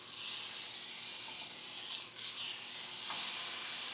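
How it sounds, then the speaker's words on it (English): Steak sears in a cast iron skillet with olive oil, a steady close hiss and sizzle running unbroken, with no talking. "what I'm looking for here is to get a nice sear on the outside of the meat"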